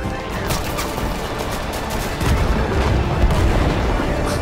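Heavy cannon and gunfire in the video game Total Conflict: Resistance, with dense booming blasts that crowd the whole stretch and grow louder and denser partway through. No talk is heard.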